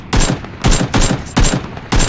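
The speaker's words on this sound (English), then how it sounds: "I'm taking fire." Gunfire in a battle royale video game, four loud, closely spaced bursts of rapid shots, evenly paced and alone.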